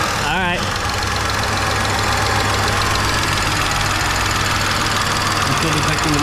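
BMW E46 engine idling with its exhaust silencer removed, a loud, steady, rough rumble throughout, with people talking over it.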